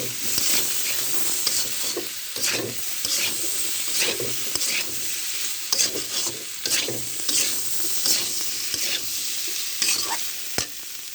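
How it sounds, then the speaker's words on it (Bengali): Ingredients frying and being stirred in a pan for a grass carp curry with turnip vadi and potatoes, a steady close sizzle broken by repeated scraping stirs throughout, with no talk. "ভালোভাবে আমি 2 মিনিটের মতো এভাবে ভেজে নেব।"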